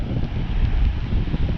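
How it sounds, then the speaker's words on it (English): Strong wind buffeting the microphone on a white-sand beach on Tasmania's North West Coast, a constant low roaring rumble with no pauses and no voices. "bloody windy"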